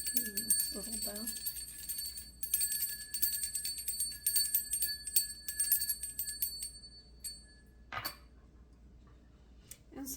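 A small bell rings with a bright, high shimmer that lingers and slowly fades, followed by a faint later tap, with a voice briefly heard at the start.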